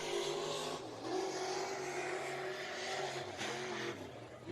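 A race car runs a qualifying lap at Deep South Speedway, its engine roaring loud and steady throughout, with the pitch dipping and rising as it lifts and accelerates through the corners.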